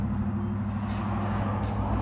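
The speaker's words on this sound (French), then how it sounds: "désolée pour le bruit des voitures" Steady outdoor road traffic with passing cars forming a continuous low rumble at moderate distance, no clear pauses, under quiet indoor surroundings with no speech.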